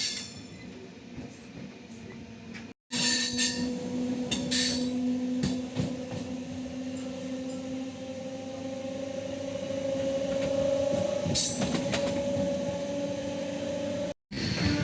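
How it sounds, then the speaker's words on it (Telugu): A Vande Bharat express train pulls out of Chittoor railway station, a steady rising mechanical hum and rumble with a clear tonal whine, heard from on board with brief interruptions. "చిత్తూరు రైల్వే స్టేషన్ నుంచి బయలుదేరడానికి సిద్ధంగా ఉంది మన వందే భారత్"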